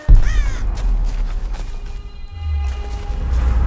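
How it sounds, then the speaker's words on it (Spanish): In the Tomb Raider video game, a loud crow caws once near the start, then steady low game ambience with faint thuds and tones follows. "Estúpidos pájaros, nos hubiera matado, ¿va?"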